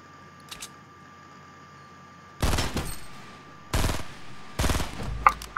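An assault rifle fires in Fortnite in three short, loud bursts of rapid shots, with brief quiet gaps between them over faint game background.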